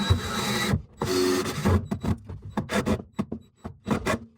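Screws being driven into a wooden foot on a custom reptile enclosure, heard as two stretches of whirring driver noise followed by a run of short, close knocks and clicks.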